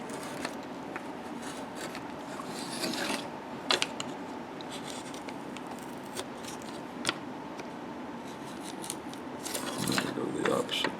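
A wood gouge cutting into a carved Native American bust, making faint scraping and rasping strokes, some sharper clicks and scuffs, close and quiet throughout.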